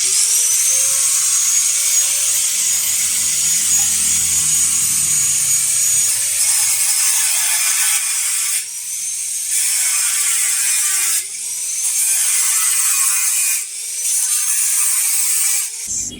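A power tool whines steadily as it cuts through the metal panel of a laundry dryer machine, the tone dipping and wavering as the blade bites and pausing briefly several times, loud and close with no talk.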